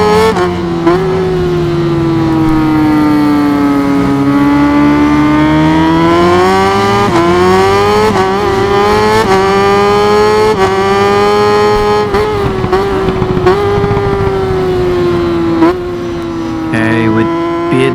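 Kawasaki ZX10R superbike racing engine in the RIDE 5 video game, a loud continuous high-revving whine that rises and falls with gear shifts throughout, steady and close.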